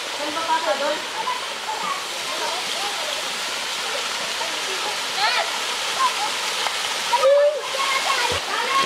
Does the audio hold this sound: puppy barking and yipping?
no